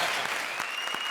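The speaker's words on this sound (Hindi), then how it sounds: "अब इसके लिए भी तालियां हो जाए।" A studio audience on a television comedy show claps loudly and continuously for about a second, with a few sharper individual claps standing out and no talk on top.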